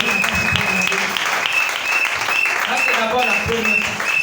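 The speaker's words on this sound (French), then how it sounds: "Acclamez très fort pour ça." A church congregation applauds and cheers loudly and steadily throughout, a dense wash of clapping with a voice speaking over it.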